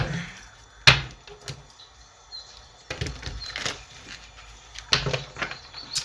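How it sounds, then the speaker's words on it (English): A large deck of tarot cards is shuffled by hand in a few separate bursts of papery riffling and flicking, close by, with quiet pauses between them. "Y'all know I struggle shuffling these big ass decks."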